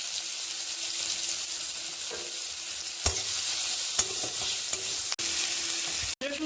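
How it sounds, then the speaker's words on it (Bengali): Small fish (shrimp, mola and puti) fry in hot oil in a village kitchen with a steady, close, crackling sizzle throughout. A few soft knocks of a stirring utensil sound along the way. "এবার দিচ্ছি ছোট মাছগুলো চিংড়ি মাছ ছোট মৌরাল্লা মাছ আছে পুঁটি মাছ আছে"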